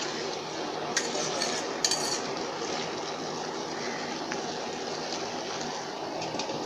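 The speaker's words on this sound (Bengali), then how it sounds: "আমরা এখন ঢাকনাটা তুলে দেখব কচুটা সিদ্ধ হয়েছে কিনা, বা তলায় লেগে না যায়, এর জন্য আমরা নাড়াচাড়া করে দেখব" A pot lid lifted and taro stems stirred as they cook with hilsa fish head, a few metallic clinks of lid and spoon over a soft, steady bubbling hiss, close but fairly quiet.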